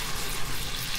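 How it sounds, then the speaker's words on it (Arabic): Food sizzles and fries steadily in a pan of meat sauce with garlic, water just added, a dense, continuous crackle close by with no talk. "عندها واحد 5 دقايق وهي قاعده تتقلى"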